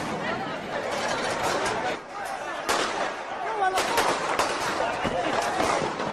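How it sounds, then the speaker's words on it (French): Gunshots ring out over a large crowd during a political clash in Venezuela, with sharp cracks scattered through loud, continuous shouting and chatter. "Des coups de feu retentissent."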